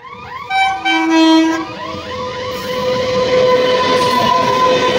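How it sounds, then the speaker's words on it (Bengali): A train passes nearby, its horn sounding in long tonal blasts that slide in pitch, followed by a swelling, steady rumble of rail cars rolling past, loud and close without any talk. "ট্রেনটা চলে গেল"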